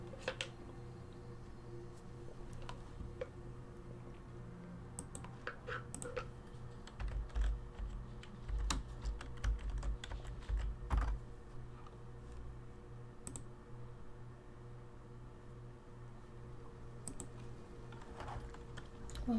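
Typing on a computer keyboard during an art stream, soft scattered key clicks and taps over a steady low hum, quiet and close.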